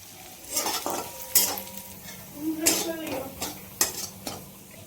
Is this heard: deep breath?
no